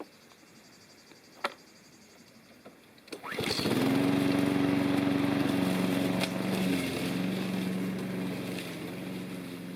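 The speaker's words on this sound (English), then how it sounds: "I'm going to try out the mulcher." A lawn mower fitted with a mulcher starts up after a quiet stretch with a few clicks and then runs steadily, loud and close, with a droning engine tone that holds to the end.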